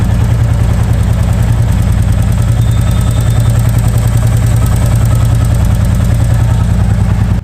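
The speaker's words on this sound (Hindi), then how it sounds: "आपको इसकी इंजन की साउंड भी सुनना है," A Royal Enfield Bullet motorcycle engine idles steadily and loudly up close, with an even, low thumping rhythm that continues without a break and with no voices over it.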